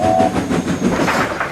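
A train runs along pulling a brake van, a loud, steady, close rumble with a faint rhythmic clatter and a brief thin whistle-like tone at the start.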